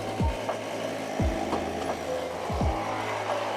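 Construction work at a nearby building project: rough rasping, sawing-like strokes come in short bursts about every second and a half, set over a steady low hum. No one speaks.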